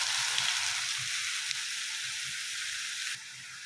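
Ridge gourd pieces dropped into hot oil with cumin seeds and curry leaves, giving a steady close hissing sizzle that eases slightly toward the end.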